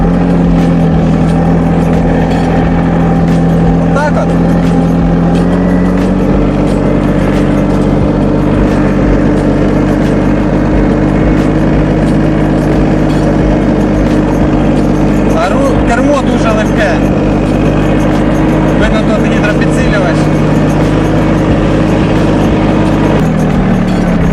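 Solis 26 mini tractor engine runs steadily in third gear, a loud continuous low rumble with a slight shift in pitch partway through, while someone talks over it.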